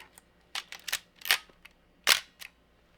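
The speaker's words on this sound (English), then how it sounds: "Listen to the sound of shutter." Several sharp mechanical camera shutter clicks at irregular intervals, close and crisp against near silence.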